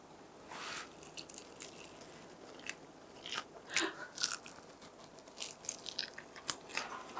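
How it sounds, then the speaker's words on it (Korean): Crisp bites into Kyochon Combo fried chicken with a thin, crunchy batter, a series of sharp close crunches and chewing sounds spread across a quiet room, no talking. "역시 이 교촌치킨 특유의 바삭하면서도 얇은 튀김옷이 아주 식감을 잘 살려주네요"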